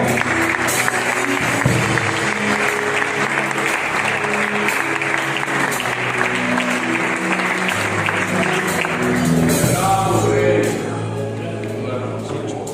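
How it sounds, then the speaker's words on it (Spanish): A church congregation gives a sustained round of applause during a sermon on prayer, steady clapping lasting most of the time, fading near the end as music and voices continue. "Damos ese aplauso al Señor"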